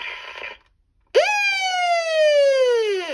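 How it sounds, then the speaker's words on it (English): A short electronic tone cuts off, then after a pause a loud, steady siren wail from a Midland 74-105XL weather radio sounds close by, holding its pitch before dropping away. "I can't get enough of that siren."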